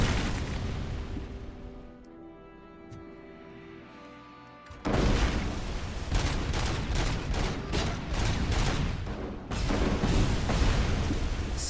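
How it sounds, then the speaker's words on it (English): Cobra assault cannon fire in the RoboCop: Rogue City video game, a quieter rumbling stretch giving way to heavy, rapid booming blasts that pound on densely for the rest of the clip, loud and close with no talk. "Okay, so they're big guns that make big bangs."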